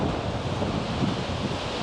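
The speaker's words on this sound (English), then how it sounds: "This is a much bigger waterfall than typical ones around Iceland." Skogafoss, a large cliff-wide waterfall in Iceland, roars as a steady, dense wash of falling water with wind buffeting the microphone and no talk.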